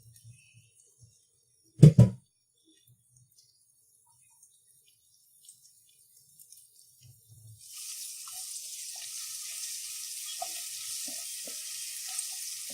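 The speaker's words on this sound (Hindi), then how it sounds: "अब मैं इसमें ये लहसुन जो मैंने चॉप कर लिए थे वो ऐड कर दूंगी।" Chopped garlic goes into oil heated over a low flame, a soft, steady sizzle starting after a sharp clunk and a stretch of near silence, then continuing faintly to the end.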